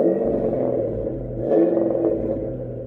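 A Ford 5-liter V8 in a Fox Body Mustang idles with a steady low burbling rumble, a slight rise in the middle, close by.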